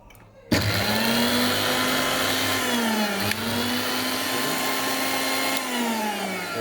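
A Panasonic MX-AE475 blender kicks on suddenly after a quiet moment and runs at a loud, steady whine with a slight pitch dip midway.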